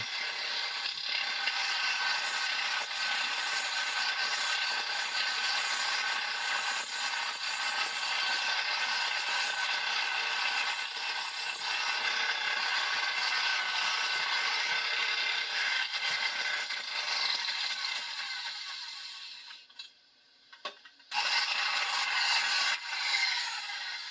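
A hand saw blade cutting metal on a 1957 John Deere 620 tractor, rasping in steady continuous strokes close by, briefly pausing near the end before resuming.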